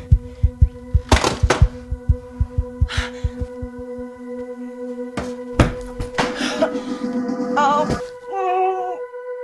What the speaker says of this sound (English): That noise you just heard? That was the sound of a heart attack.